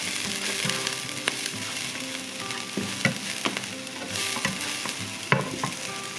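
Onions and garlic fry in extra virgin olive oil for a beef stew, a close, steady sizzle punctuated by spoon scrapes and clicks as the pan is stirred.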